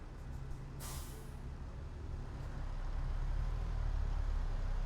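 A heavy truck in American Truck Simulator pulls away from a stop with throttle applied while the clutch slips, giving a steady low engine rumble that builds slightly, opened by a brief sharp hiss of air brake release.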